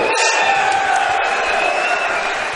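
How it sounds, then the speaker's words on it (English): Crowd at a lightweight fight event cheering and applauding steadily, a dense roar of voices and clapping filling the hall after a three-round bout. "let's have a round of applause for these two lightweight warriors"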